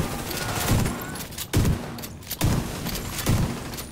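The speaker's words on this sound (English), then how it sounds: "I'm just gonna shoot you with my shotty." Shotgun blasts in the video game The Division 2 boom out at regular intervals, about four loud, heavy shots in quick succession over a busy background of gunfire and noise.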